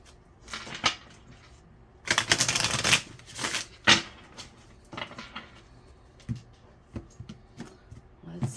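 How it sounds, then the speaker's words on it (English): Tarot cards are shuffled by hand in several bursts of crisp riffling and soft flicks, close up, with quiet taps and pauses between the shuffles. "Aries, one more shuffle."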